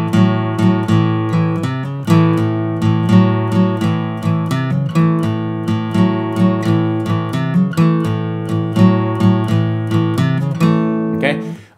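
A guitar plays a repeating blues shuffle riff alone, with steady bouncing plucked notes and a brief strum at the end.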